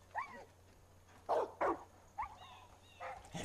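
Dogs in the video game Far Cry 5 give a few short, moderately faint barks and yips in quick bursts, with whimper-like tonal cries in between.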